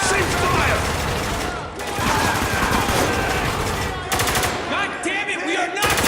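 Sustained automatic gunfire and rapid bursts crackle loudly in a chaotic firefight in the video game Spec Ops: The Line, with brief gaps between volleys and shouted voices mixed in.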